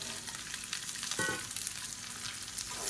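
Chopped green beans fry in oil in a pan, a steady close sizzle with a brief stirring clatter partway through.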